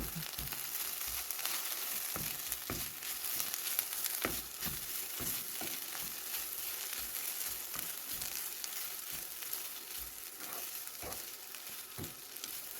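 Frozen chilies dry-roast in a large pan while being stirred steadily, for a Thai chili paste with saba fish. A soft continuous sizzle runs throughout, with frequent light scraping and tapping of the utensil against the pan, and no speech.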